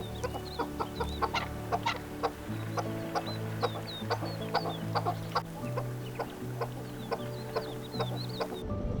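A family of chukar partridges with several tiny chicks moving through dry scrub, giving repeated soft clucks and short chirps over a steady low hum, fairly close and continuous.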